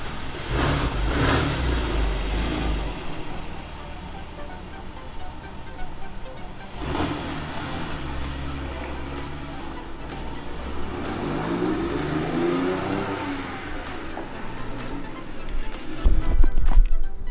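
A Porsche 911 engine runs after a rear main seal repair, a steady low idle with some rise and fall in revs, fairly close and continuous throughout.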